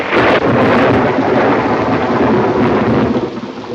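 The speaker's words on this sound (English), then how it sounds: "Are you afraid of thunder?" Loud thunder rolls and rumbles through a heavy rainstorm, with dense rain hiss filling the background throughout and the booming peaking at the start before easing slightly.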